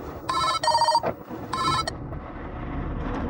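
A telephone rings in several short, loud electronic bursts with brief gaps between them, then stops, leaving a quiet indoor background and no talking.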